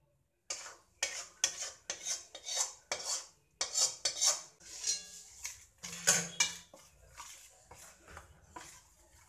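Hot besan mixture for laddoos being stirred on a plate to cool, a spoon scraping against the plate in quick, rhythmic strokes with metallic clinks, close and clear, with no talking.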